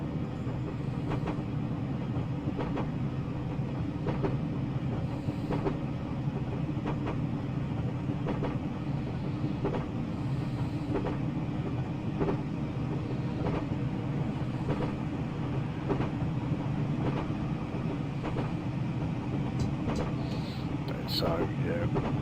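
A Class 506 electric train running near Ardwick, Manchester in Train Simulator Classic gives a steady rolling rumble with regular rhythmic clicks over the rails, quiet and continuous throughout.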